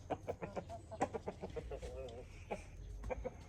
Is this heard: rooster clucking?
yes